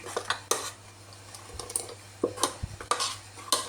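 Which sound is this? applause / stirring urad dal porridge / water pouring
stirring urad dal porridge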